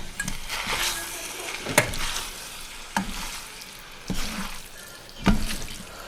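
Pasta sauce mixed with grated Parmigiano Reggiano is stirred in a pan, giving repeated wet scraping and sloshing strokes with light sizzling, close and moderately loud, with no voices.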